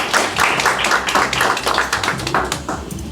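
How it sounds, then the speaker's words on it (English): Guests at a Black media mixer event give a round of applause for a chef, with moderately loud, uneven clapping sustained throughout. "All right, round of applause for Chef Toy"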